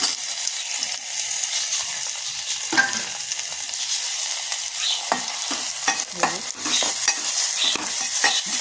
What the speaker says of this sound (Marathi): हा टॅमॅटो आता थोडा मऊ होईपर्यंत परतायचा आहे